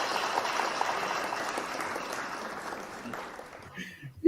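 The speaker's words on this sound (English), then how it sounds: "The audience is clapping." Studio audience clapping in a steady broad wash of applause that thins out near the end, moderately loud with no voices over it.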